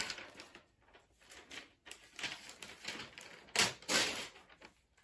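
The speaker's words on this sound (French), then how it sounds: "je vais le déchirer." Paper being torn in several short ripping bursts, the loudest near the end, close by with no talking.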